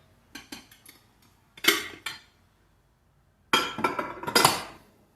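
Glass bowl containers clink and knock together in a few sharp bursts as they are handled in a kitchen cabinet, with quiet gaps between the clusters of contact.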